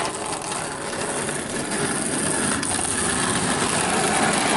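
A Tri-ang Stephenson's Rocket model train runs steadily with its lightweight coach rattling, a continuous close whirring and buzzing clatter that holds level and slightly builds throughout.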